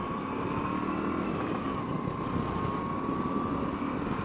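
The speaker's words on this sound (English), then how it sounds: "The engine is really smooth, like straight away" A 2020 Moto Guzzi V85 TT motorcycle engine runs steadily while riding in first gear onto a motorway, a continuous even drone with rushing wind noise and no speech.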